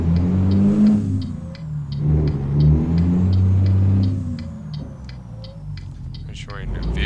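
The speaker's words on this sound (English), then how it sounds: "we're going to turn on the truck here." Diesel engine of a Peterbilt 389 semi truck idling and revving in a snowy American Truck Simulator drive, a low rumbling drone with rising revs, while someone talks over it.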